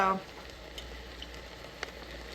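Two pounds of ground chicken browns in a pan with a soft, steady sizzle close by, broken by a few faint ticks and scrapes, and a voice is heard briefly at the very start.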